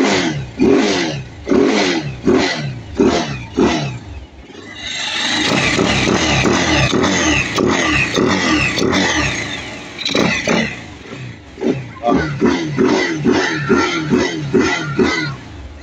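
A motorcycle engine fitted with a tuned 34mm carburetor, revved in a series of sharp throttle blips, then held in one longer sustained rev before more quick, rhythmic bursts, loud and close.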